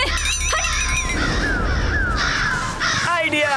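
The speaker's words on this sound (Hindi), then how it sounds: "अब तू काऊ काऊ कर रहा है" Repeated harsh crow caws sound in a busy cartoon scene, mixed with music and other effects, the calls fairly loud and close over the background.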